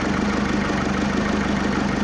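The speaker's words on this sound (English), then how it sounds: "as you can see, the engine running" A Ford Fiesta 1.6 TDCi diesel engine idles steadily up close, a continuous low rumble with an even pulsing beat and no voices.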